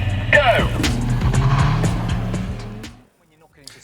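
Cars launching from a standing start in a race on the road, engines roaring close and loud as they pull away, then fading quickly into near silence, with a voice over the launch.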